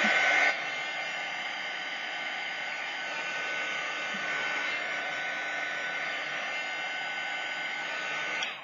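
A hair dryer blowing on a whimsical 3D butterfly and heart craft piece, a steady close airy whoosh with a constant motor whine running uninterrupted until it switches off.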